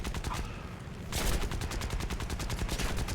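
An aircraft's rear tail gun rattles in War Thunder, fast rhythmic machine-gun bursts hammering steadily, a brief lull early before the firing resumes, loud and continuous under the engine drone.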